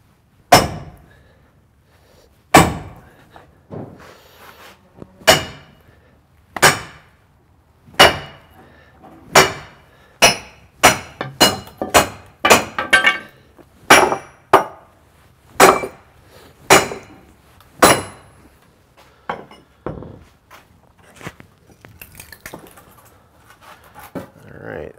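A hickory bow stave is split by sharp, loud strikes, likely a hammer on a wedge, landing in a steady rhythm that briefly quickens into a rapid cluster before slowing again. Close and dry, with silence between blows.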